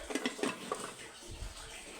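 A metal lid is set onto a cooking pot of simmering beef papaitan in a home kitchen, giving a few faint, quick clinks and taps close by, then a soft low bump.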